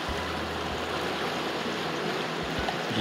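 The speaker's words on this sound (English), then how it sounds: "which is very cool, very fast flowing" Fast-flowing Snowy River water rushes steadily near McKillops Bridge, a continuous broadband roar with a faint low rumble, close and unbroken, with no voices.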